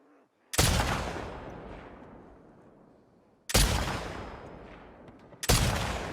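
Rifle shots in the video game The Last of Us Part II, three loud, sharp blasts spaced a few seconds apart, each ringing out and decaying slowly, with no voices over them.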